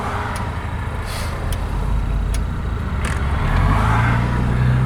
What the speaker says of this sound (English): the six-cylinder motor is silky smooth